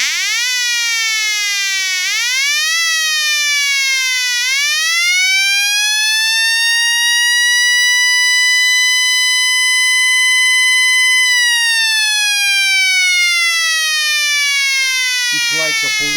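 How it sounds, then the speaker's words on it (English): A homemade electronic siren circuit built around a BC337 NPN transistor wails loud and steady, its harmonic-rich tone sweeping up and down in pitch before holding high, then dropping as it cuts off near the end. "It's like a police siren."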